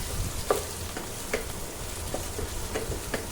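Mutton fried rice with onions being stirred in a pan, a continuous sizzle broken by several sharp scraping stirs at an uneven rhythm.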